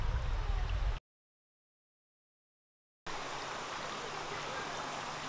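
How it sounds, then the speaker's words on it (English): Steady broadband rush of flowing water, like a stream or waterfall, interrupted by a two-second gap of silence before resuming. "Listen to the sound of the water."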